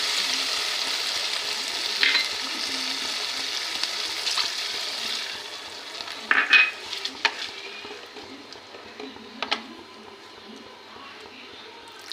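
Spice paste for rui fish kalia frying in oil in a pan while being stirred constantly, a steady close sizzle with scraping strokes and several louder clanks of the spoon against the pan.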